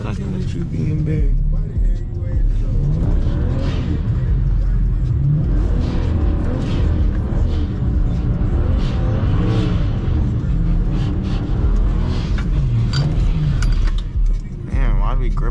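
A BMW 335i drifts on a wet road in the rain, its engine rumbling and revving in surges under near-constant talk from people inside the car.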